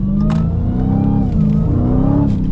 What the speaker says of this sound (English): look, this is partial throttle.